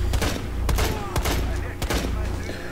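Sharp rifle reports in Rainbow Six Siege, with a sniper firing from outside: several loud, distinct cracks spaced irregularly over a busy background of game noise.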